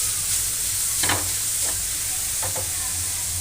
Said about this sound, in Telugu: క్యారెట్ వేసుకున్నాం. ఇప్పుడు ఇలా కొద్దిగా కలుపుకుంటాం.